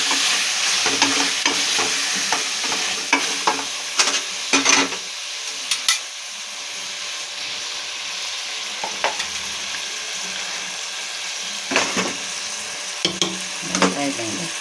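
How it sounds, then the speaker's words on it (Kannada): Black pepper powder fries in a pan for mutton pulao, a continuous sizzling hiss broken by clattering spoon strokes as it is stirred, loud and close, with quieter spells between the bursts of stirring. "ಕಾಳು ಮೆಣಸಿನ ಪುಡಿ 1 ಸ್ಪೂನು, ಹಾಕೊಂಡು ಚೆನ್ನಾಗಿ ಫ್ರೈ ಮಾಡ್ಕೊಬೇಕು"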